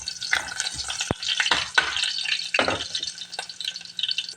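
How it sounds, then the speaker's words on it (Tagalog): Ginger being stirred in hot oil in a cooking pot for chicken with papaya and moringa, with close scraping and rustling strokes of a spoon over a light, steady sizzle. "maglagay tayo ng luya. Haluin natin guys."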